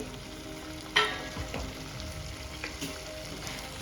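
Brinjal and potatoes go into a pan of masala. A thud is followed by a steady close sizzle and occasional stirring scrapes, with no speech.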